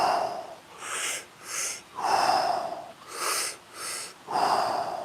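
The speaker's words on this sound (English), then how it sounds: "let's keep up the big breaths for 1 minute left" Big, deep breaths during a breathing exercise come in six slow, loud, close rhythmic cycles of forceful inhales and exhales, with no talking.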